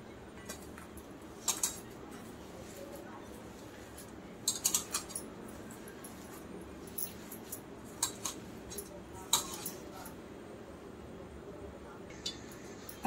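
Sabudana vada mixture being mixed in a bowl with peanuts and chopped coriander, giving soft squishy stirring under scattered light clinks and taps of a utensil against the bowl.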